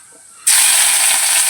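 Small onions hit hot oil in a pan where mustard seeds have just popped, setting off a sudden loud, steady sizzling hiss that starts abruptly and carries on evenly.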